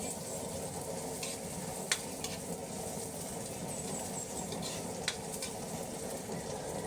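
Garlic frying in cooking oil for ginataang langka, a steady, close, continuous sizzle with faint crackles and no talking.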